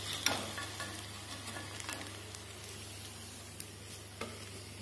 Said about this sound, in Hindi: यहाँ एक एक करके मैं सभी बॉल्स को फ्राई कर रही हूँ